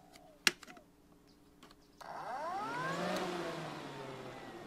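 A Honda CR-V cooling fan motor, powered directly by jumper cables, spins up from silence after a small click, its whirring hum rising steadily in pitch and then holding at speed, close by.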